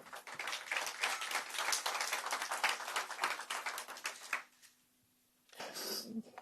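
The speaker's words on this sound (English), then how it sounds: "I wasn't satisfied with our applause still." Audience at a business council governor event claps in a full, sustained burst of applause for over four seconds, then drops to near silence before a short second burst of clapping near the end.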